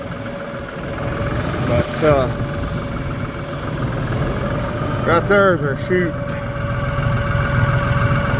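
A tractor engine idles steadily after being restarted, with a constant mid-pitched hum throughout while someone talks over it close by.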